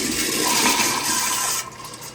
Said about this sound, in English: We'll go ahead and flush it.